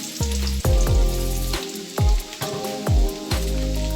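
Garlic hitting hot oil in a pan, sizzling loudly in repeated bursts as pieces are dropped in and stirred, with steady frying crackle between the louder surges.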